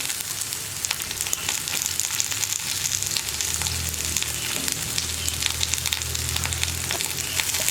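Onion cut in thick lengthwise slices, green chilli and curry leaves sauté in a pan for a Kerala yogurt curry with green plantain, giving a steady close sizzle with scattered stirring scrapes throughout.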